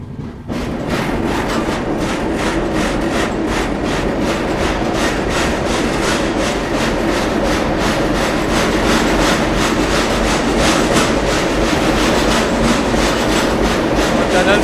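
The Uttar Sampark Kranti passenger train (12445) runs on the Jammu–Katra route with a loud, continuous rumble and steady clickety-clack of wheels over rail joints, heard from close inside the moving train.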